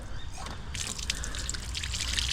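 Hot water trickling from an outdoor shower outlet on an off-grid caravan, a steady low-pressure splatter and dribble heard close up with no talking.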